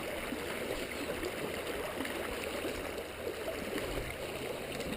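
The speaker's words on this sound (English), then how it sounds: "Ooh, the river is really high." A river running high after heavy rain, roaring as a steady, dense, unbroken rush of water throughout, loud and close with no pauses or voices.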